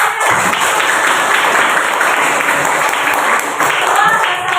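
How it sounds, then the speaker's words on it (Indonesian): Applause from a group of teachers in training at an Indonesian Ministry of Religious Affairs session, a dense steady burst of clapping close to the microphone, lasting several seconds. "Tepuk tangan untuk kalian."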